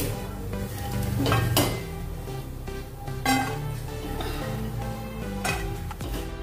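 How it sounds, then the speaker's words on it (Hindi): Dry fruits fry and are stirred in a wok while making suji rava laddu, a steady sizzle overlaid with repeated sharp scrapes and clinks of a spoon against the pan, close and without speech. "इसको भी अच्छे से हमने भून लिया है अपने ड्राई फ्रूट्स को"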